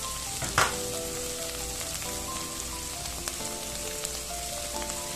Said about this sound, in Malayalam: ഇനി ഞാൻ രണ്ടാം തേങ്ങാപ്പാല് ഇടുകയാണ്